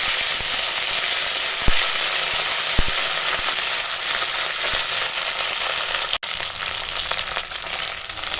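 Ginger-cumin paste frying in hot oil with dry red chilli, bay leaf and five-spice tempering, a loud continuous close sizzle with a couple of brief clicks.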